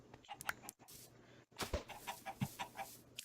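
Chickens in the Minecraft video game clucking in a few short, uneven bursts of bird calls, moderately loud with brief silent pauses, and no talk.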